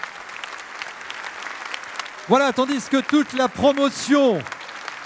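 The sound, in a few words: applause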